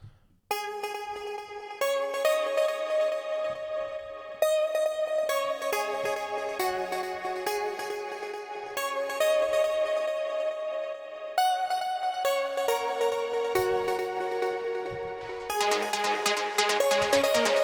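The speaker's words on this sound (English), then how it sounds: "The slower melody sounds something like this." A slow trance synth melody plays alone, sustained bright tones changing pitch every couple of seconds, layered and harmonically rich, building to a denser chord near the end.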